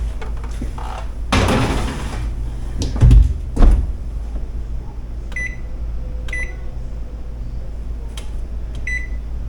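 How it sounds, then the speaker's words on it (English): A kitchen oven door opens and closes as glass jars of bread and butter pickle relish are set inside, giving a few clattering thumps, followed by several short electronic beeps from the oven. "I'm going to pop these in the oven."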